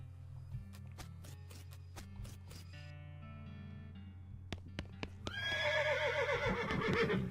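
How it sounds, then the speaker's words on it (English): A horse in the video game West of Loathing whinnies: quiet plucked guitar notes and a low hum come first, then a loud, wavering neigh rises near the end and holds to the close. "This is the most typical horse you've ever seen."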